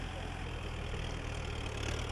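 A farm tractor engine runs steadily in a field while plowing after the first rains in the Sikasso region of Mali, a constant low rumble at moderate loudness with no break.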